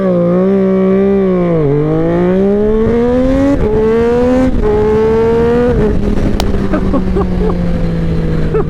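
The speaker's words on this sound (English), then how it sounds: "we'll do a full-on launch here." A 2020 Triumph Street Triple 765 RS motorcycle doing a full launch, its loud engine revving up hard through several quick upshifts, each gear change briefly dropping the pitch before it climbs again, close and continuous.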